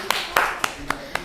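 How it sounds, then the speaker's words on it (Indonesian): Students in a housekeeping class clap for a group in several sharp, separate claps spaced unevenly, with a voice murmuring faintly underneath. "Tepuk tangan dulu untuk kelompok 5"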